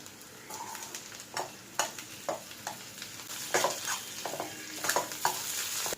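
Onions sizzling in a pan for a hotel-style liver roast, a constant frying hiss broken by repeated spatula scrapes and stirs at an uneven rhythm, close up with no talk.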